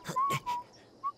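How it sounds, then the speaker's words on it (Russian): A cartoon rooster whistles to cheer someone on in a children's animated series, producing short tonal whistle notes with breathy bursts. A brief final chirp follows after a pause, all fairly soft and close. "Я буду свистеть, чтобы подбодрить тебя!"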